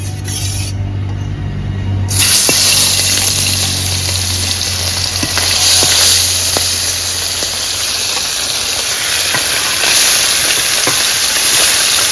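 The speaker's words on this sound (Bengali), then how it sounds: "তেলে মাছ ছেড়ে দেবো" Fish drops into hot oil in a wok and bursts into a loud, close, continuous sizzle with crackling pops that carries on steadily throughout.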